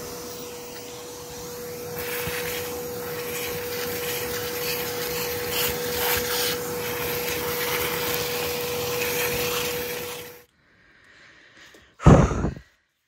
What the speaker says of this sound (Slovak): napadlo ma, že použijeme vysávač.